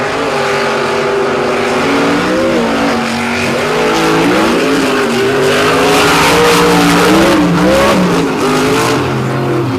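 Monster trucks Stone Crusher and Blockhead race on a beach, engines roaring loudly and continuously, revving up and down with rising and falling pitch through the run, with no talk over them.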